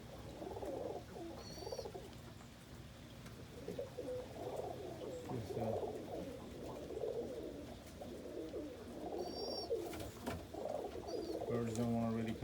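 Pigeons coo softly and repeatedly inside a coop on a rainy day, their low, throbbing calls continuous and fairly quiet, with a few faint chirps and scratchy rustles.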